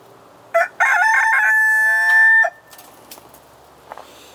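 A rooster crows loudly and close by in a backyard chicken run, one long drawn-out call with a couple of short clucks from the hens just before it, then the yard goes quiet apart from faint scratching.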